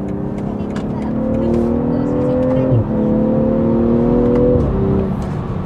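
A sports sedan with an eight-speed automatic and winter tires accelerates hard, its engine note climbing steadily, briefly dipping at two quick gearshifts, then rising again, heard loud and continuous from inside the cabin.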